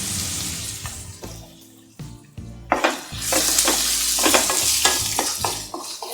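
Ginger and garlic sauté in oil in a pan for mushroom masala, a steady close sizzle with a spoon stirring and scraping against the pan in irregular strokes.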